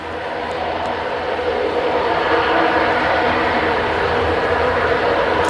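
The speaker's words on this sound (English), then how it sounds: "this is the Eurowings A320neo" Eurowings Airbus A320neo airliner arriving at Manchester Airport, a loud steady broadband jet roar that holds fairly constant and close throughout, with no voices over it.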